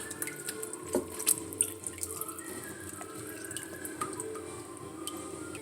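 Tap water running and splashing into a sink while a whole chicken is rinsed, with irregular splashes and drips close by, no talking.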